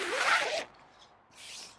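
A zip on the curtains of a Zempire Evo TL air tent is pulled in one quick, close, rasping stroke, followed after a brief pause by a shorter, softer second zip.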